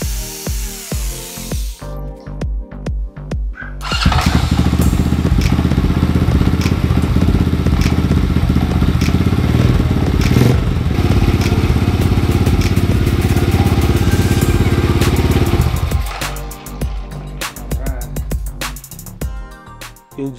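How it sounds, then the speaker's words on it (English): A 125cc go-kart engine starts after a few clatters and runs loud and steady at close range for about twelve seconds, then cuts off into scattered mechanical noises. "Engine fired right up and seems to be working just fine."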